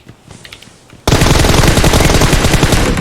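Sustained automatic gunfire in PUBG Mobile bursts in loud and close after a quiet second, a dense rapid stream of shots continuing to the end.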